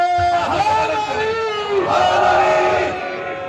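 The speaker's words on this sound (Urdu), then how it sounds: "سب اگلے پچھلے مل کے نعرے" A large crowd at a Shia majlis in Karachi during Muharram shouts religious slogans in unison, a loud, sustained massed roar of voices filling the hall, swelling and holding before easing slightly at the end.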